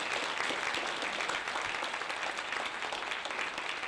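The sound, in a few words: audience applause for event committee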